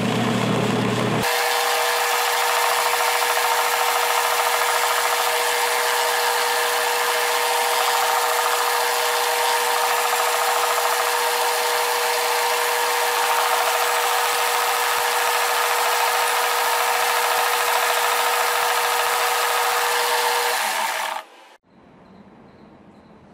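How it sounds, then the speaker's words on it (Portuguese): A small wooden miniature forklift part is sanded with a power tool that runs loud and steady as a continuous whirring drone for about twenty seconds, then cuts off abruptly, with no talk. "Agora eu vou lixar ela."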